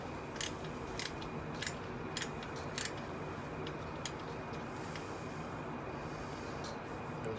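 Small screws on a brass lamp being undone with a small hex key during a restoration, giving a run of faint, sharp metallic clicks and ticks spaced irregularly over steady room hiss.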